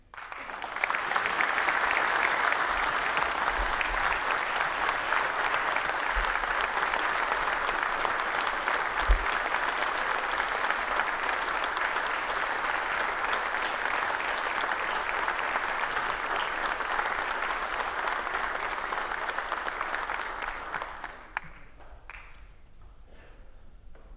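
A conference audience at a New York State fire chiefs' general session applauds a chief walking to the stage, with loud sustained clapping for about twenty seconds before it quickly dies away.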